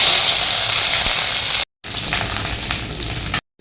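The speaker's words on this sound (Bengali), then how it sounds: "তেলে একটুখানি কালো জিরে দিচ্ছি, আমি একটু আদা গ্রেট করে রেখেছিলাম, আদাটা দিচ্ছি" Black cumin seeds and grated ginger hit hot oil and sizzle loudly and steadily up close, a dense crackling hiss that is cut off by two brief silent gaps.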